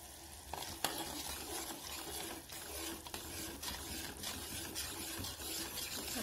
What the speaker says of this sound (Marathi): आपल्याला 3 ते 4 मिनिटं हा पाक ढवळत राहायचा आहे